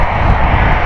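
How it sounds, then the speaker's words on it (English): Ryanair jet airliner on the Gothenburg flight at Stansted Airport, a brief, loud, dense engine roar heard close up. "This is the Gothenburg flight here from Ryanair."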